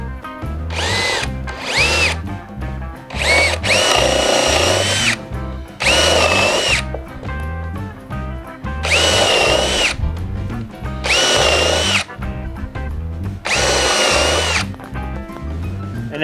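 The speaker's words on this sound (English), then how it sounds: "first we'll start with pre-drilling some holes, because this is just pine" A power drill pre-drills holes in pine boards, with repeated loud whining bursts of a second or two separated by short pauses, up close.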